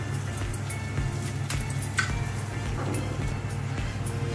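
Cinnamon sticks and cloves sizzle in hot oil while Arabian chicken majboos is being cooked, giving a faint, steady frying hiss with small crackles over a low kitchen hum.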